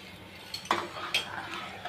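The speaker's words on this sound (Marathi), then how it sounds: "याच्यामध्ये मिक्स करून घेऊ. आणि 5 मिनिटासाठी हे हलवू." A spoon stirs a rose-flavoured milk mixture in a pot, giving a couple of sharp metallic clinks against a quiet background hiss.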